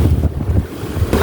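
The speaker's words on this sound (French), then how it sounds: "Regardez le vent, regardez comme ça claque." Strong seaside wind buffets the microphone over a roar of surf, loud and continuous with gusty swells throughout.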